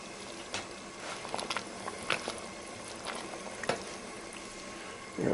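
Mushrooms dropped into a hot pan of beef stew, giving a faint, quiet sizzle with scattered soft pops and light patters throughout, no voices.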